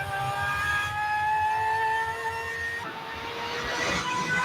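A powerful supercar engine drones and howls steadily, its pitch climbing and shifting as the car passes at moderate distance, with no talking.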